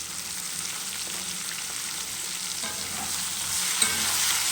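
Chopped onions salted by the spoonful frying in a pan, a steady close sizzle with light stirring scrapes throughout, growing slightly louder near the end; no voices.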